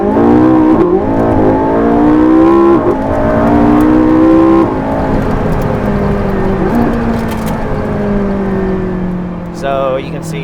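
A McLaren 675LT pulls away hard without launch control, its engine note climbing loudly through several rising sweeps broken by quick gear changes, then easing off near the end, with a voice speaking alongside.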